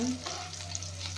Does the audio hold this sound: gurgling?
no